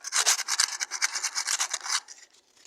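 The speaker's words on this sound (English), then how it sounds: "I sandpaper it until the rusty areas is no longer" Sandpaper scrubs rust off a metal gate in quick, close back-and-forth strokes, a rhythmic rasping that runs steadily and then trails off into a few lighter rubs.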